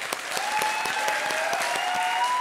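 Audience applause at a comedy show fills the whole stretch as steady, dense clapping at an even level, with no pauses.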